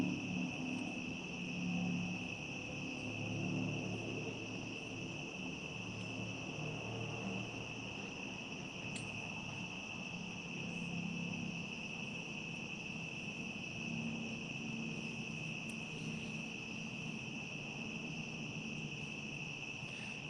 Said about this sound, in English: Can you guys hear like the bugs and like the crickets and everything right now?